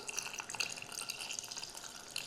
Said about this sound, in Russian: Добавляем воду.